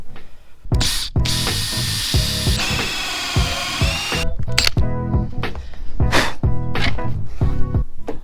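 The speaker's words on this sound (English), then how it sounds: "make sure when you drill your holes in your boat" A power drill whines in repeated bursts while drilling holes in a boat, revving up and stopping, with a long sustained run in the middle; close and loud.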